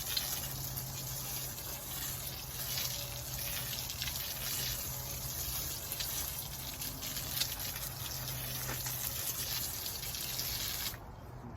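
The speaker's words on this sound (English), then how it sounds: "I'm just going to water it in good." A garden hose sprays water onto a dry walkway in a winter garden, a steady close hiss and splash that runs evenly for about eleven seconds before cutting off.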